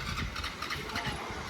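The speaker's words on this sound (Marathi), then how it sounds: "बघा आता गाडी चालू आहे" A car or similar vehicle engine runs steadily, a continuous low rumble with a mid-range drone that holds at a fairly even level throughout, with no voices over it.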